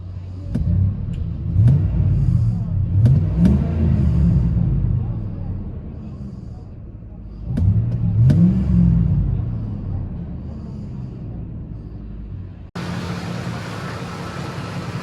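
2006 Ford F-150 5.4L V8 with Flowmaster 40 dual exhaust rumbling in the rain: a low idle with two short rev blips, then a sudden shift to hissy noise near the end.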